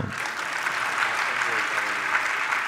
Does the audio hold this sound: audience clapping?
yes